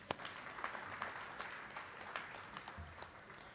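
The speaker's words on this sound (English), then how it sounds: "I'll clap for that." Scattered applause at a Pearl Harbor Day commemoration, faint and distant, with sharp individual claps repeating irregularly over a quiet room.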